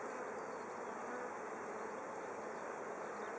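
Honey bees buzz steadily around an open, apparently queenless hive, a dense continuous hum close by with no talk.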